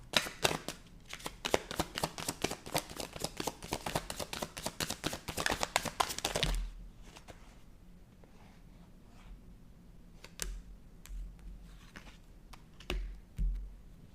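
Rapid riffling of playing cards in quick bursts, crisp and close, followed by quieter handling sounds and a few soft taps.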